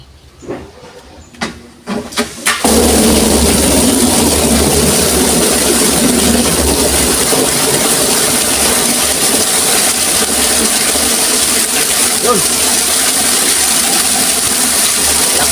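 A 0.75HP submersible pump pulls water from a deep well, a steady loud rushing hiss that starts abruptly after a few seconds of quieter knocks and handling, then holds constant to the end.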